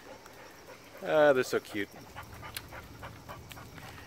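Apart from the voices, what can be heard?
dogs whimpering and panting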